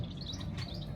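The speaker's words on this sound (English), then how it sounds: "The sun is shining, I can hear the birds singing." Faint birds chirp and twitter in the distance over a low, steady background rumble.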